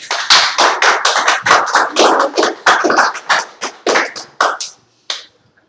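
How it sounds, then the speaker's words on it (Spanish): A church congregation claps together in a loud, dense burst of rapid hand claps that thins out near the end into a few scattered final claps, with no talk over it. "dale un aplauso al Señor"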